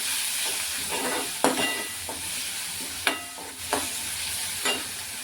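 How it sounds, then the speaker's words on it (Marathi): Chopped onion frying in a pan for a dry bitter gourd stir-fry, a steady soft sizzle broken by several sharp stirring scrapes and clinks, close and alone. "कांदा आहे ते छान भाजून घेऊया"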